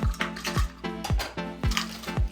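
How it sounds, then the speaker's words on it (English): Dry oatmeal poured into a blender jar for a homemade Jamaican protein shake, a quick run of about six sharp tapping, rattling hits close up. "So this is actually 1 cup of oatmeal. So I'm gonna put that in the blender"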